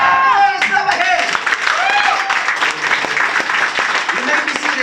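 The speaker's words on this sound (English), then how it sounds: "Let's clap our hands!" An audience at a leadership training session clapping hands together, with dense, steady applause and voices shouting over it throughout, loud and close.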